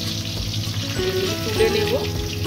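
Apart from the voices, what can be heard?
bhetki fish fingers frying slowly on low heat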